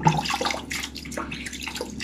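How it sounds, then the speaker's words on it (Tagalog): Face being splashed and washed with warm water after a charcoal peel-off mask, close wet splashing and dripping sounds running steadily through the short span. "Ayan, hilamos lang ako ng hilamos."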